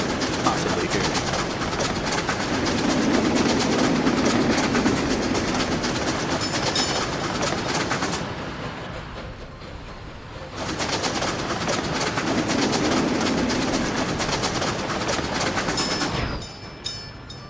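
A freight train hauling coal in the city-building game Workers and Resources rolls steadily at moderate loudness, with a continuous rumbling, rattling rail noise that dips briefly mid-way before resuming, and faint bird calls over it.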